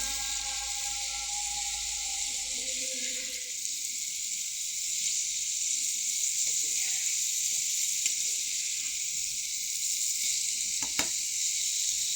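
Bitter gourd (karela) fries in a pan with a steady, close sizzle lasting throughout, with faint low tones early on and a few small clicks later; no one speaks.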